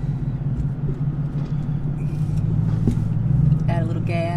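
A manual Chevrolet Camaro ZL1 engine idles with a steady low rumble as the clutch is slowly released, the hum swelling slightly toward the end, with a brief voice near the close.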